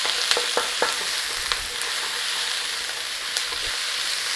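Mongolian chicken stir fry sizzles in a pan with only a little oil, a steady, loud frying hiss broken by occasional sharp pops and ticks, close up with no voices.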